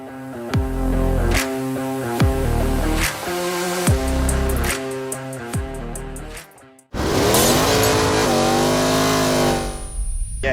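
A 1969 Plymouth Roadrunner V8 revs through a MagnaFlow exhaust lined with copper and ceramic-coated, loud repeated throttle blips with deep rumbling idle between, then a sustained rising roar after a brief cut.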